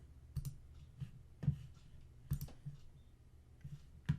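Crisp computer mouse clicks while working in Photoshop, a handful of sharp, separate taps spaced irregularly, close and fairly quiet with no talking.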